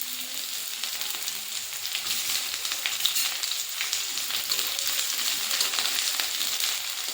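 Onions frying in a pan with whole garam masala spices, a steady, close, continuous sizzle that holds evenly throughout with no voices.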